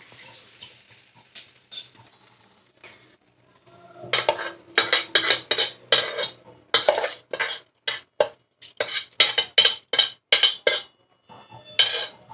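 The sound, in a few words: washed mung dal added to a pot and stirred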